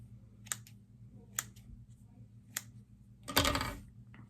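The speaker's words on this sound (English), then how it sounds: "I'm going to take a strand of Polish chenille. I got to cut a piece off." Scissors snip through a strand of Polish chenille at a fly-tying bench, giving a few sharp, separate clicks followed by a louder, longer rustling cut, all close up with no talking.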